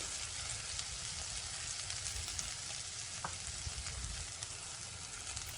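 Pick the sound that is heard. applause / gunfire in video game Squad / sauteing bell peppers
sauteing bell peppers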